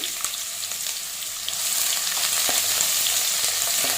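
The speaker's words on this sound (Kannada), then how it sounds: "ಈಗ ಹೆಚ್ಚಿಟ್ಕೊಂಡಿರೋ ಈರುಳ್ಳಿನ ಆ್ಯಡ್ ಮಾಡ್ಕೊಳ್ಳಿ ಒಂದ್ಸರಿ ಚೆನ್ನಾಗಿ ಫ್ರೈ ಮಾಡ್ಕೊಳ್ಳಿ" Chopped onions fry in a pan for chana masala with a bright, continuous sizzle that swells louder halfway through, punctuated by light stirring scrapes; close and steady, no talking.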